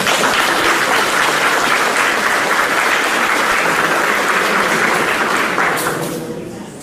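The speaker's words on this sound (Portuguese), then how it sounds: "Uma salva de palmas para ela." Audience claps for a guest at a class session in Belém, a loud, sustained burst of applause that stays strong for most of the stretch, then tapers off near the end.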